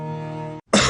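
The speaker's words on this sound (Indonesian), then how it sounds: "Oh, batuk." A single loud, close cough in an Indonesian TV advertisement for OB Herbal cough syrup, heard right after a steady tonal hum and a brief moment of silence.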